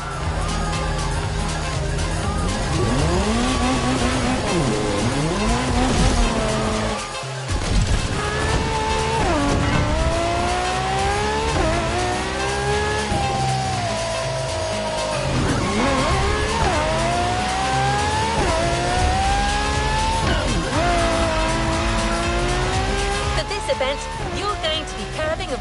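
A Toyota Supra races in The Crew Motorfest, its engine revving and sweeping up and down through gear changes, with a brief lift near the middle, loud and continuous beneath a speaking voice.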